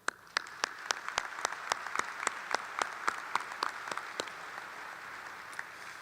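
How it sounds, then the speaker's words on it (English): At a Francis Howell North High School graduation, a single person's sharp, evenly spaced claps stand out in front of a broad wash of crowd applause, which fades toward the end. "please give them a round of applause as well"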